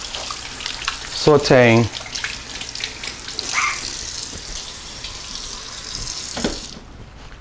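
Tap water running steadily into a kitchen sink as hands are washed during cooking, a continuous close hiss with a person talking over it.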